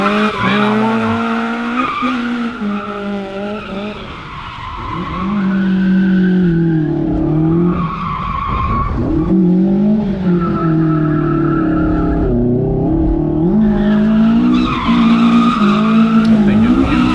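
Toyota AE86 drifting, with loud tire skid and squeal over a revving engine that rises and falls across the run, close by; people talk and shout over it.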